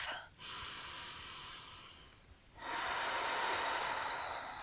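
Slow, deep breathing during a yoga flow: a long, airy inhale through the nose, a brief pause, then a fuller exhale, close and loud with no speech.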